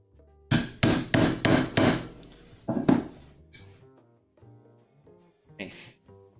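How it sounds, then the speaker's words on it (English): Mallet blows drive a chisel into wood while cutting Japanese joinery for a sawhorse, about five sharp, evenly spaced strikes up close, then a pause and a couple more hits with light scraping. "I'm just going to be here slowly chiseling away at wood."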